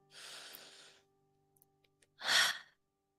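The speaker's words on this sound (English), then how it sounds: "Another deep breath in." A slow deep breath drawn in, then after a short pause with a few faint clicks, a single breathy exhale, close and alone during a guided breathing exercise.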